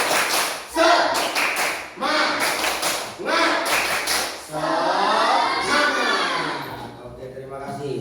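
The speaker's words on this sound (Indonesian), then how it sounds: "kita tepuk semangat dulu biar semangat" Rhythmic group clapping from a class doing a tepuk semangat cheer, with bursts of patterned claps and chanting voices in an Islamic studies (PAI) lesson, followed by a stretch of loud group chanting.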